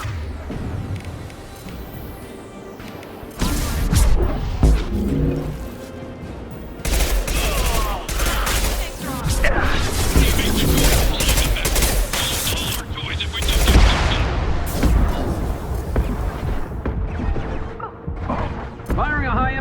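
Gunfire in the shooter game Mass Effect 2 comes as loud, dense bursts and rapid volleys of shots that keep going almost without pause over the game's background noise.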